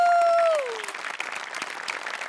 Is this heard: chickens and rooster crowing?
no